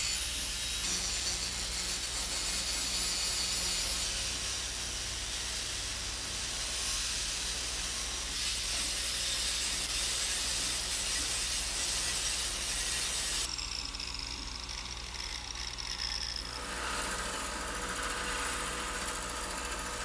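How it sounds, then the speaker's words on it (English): Angle grinder shaping a Bowie knife blade made from leaf spring steel, a continuous harsh hissing grind that shifts in tone as the tool moves across the metal, steady and close, with no talking. "then shaping it with the angle grinder"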